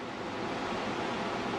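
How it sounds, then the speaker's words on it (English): Ocean waves roll in through shallow water toward a beach just after sunset, making a steady, continuous broadband wash of surf with light wind noise and no distinct individual break. "What I'm looking at is I'm looking at waves traveling in towards the beach,"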